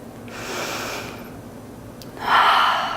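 Deep yoga breaths in a calming session, a long audible inhale followed by a pause, then a louder, breathy exhale close to the microphone.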